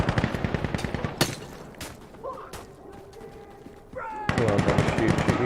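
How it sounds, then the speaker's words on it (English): Gunfire in the video game Insurgency Sandstorm, where an SVD rifle is being fired: rapid runs of loud, evenly spaced shots at the start and end, with a few scattered blasts and faint voice-like sounds between them. "I love the sounds of the SVD. It sounds so powerful."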